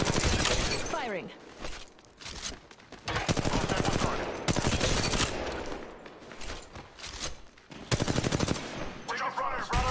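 Rapid automatic gunfire from a weapon in the Apex Legends Mobile video game rattles in loud, dense bursts, separated by short pauses over several seconds, with faint voice chatter underneath.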